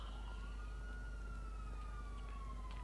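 A police siren in the video game GTA 5 wails in a slow rising and falling sweep, faint and distant under a steady low engine hum, with no speech.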